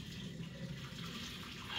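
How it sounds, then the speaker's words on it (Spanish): Cooking water being poured out of a pot into a sink, a steady close rush of running water that swells louder at the end. "Voy a tirarle el agua."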